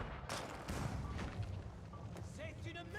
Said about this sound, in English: those Royal Cannons just making absolutely quick work of those walls